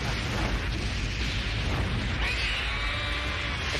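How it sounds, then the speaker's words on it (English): Explosions in the anime film Lily C.A.T., a dense, sustained roar of booms and bursts filling the whole stretch, loud and continuous with no voices over it. "I do love anime explosions."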